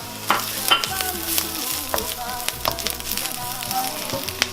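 Tomato pasta sauce with thyme and oregano stirred and sizzling in a pan, a steady frying hiss with repeated scraping and clinking of the spoon against the pan, close and continuous without talk.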